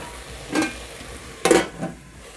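Food frying in a pan being turned and pounded against the side, two or three short thuds and scrapes over a faint background sizzle, close by, no talking.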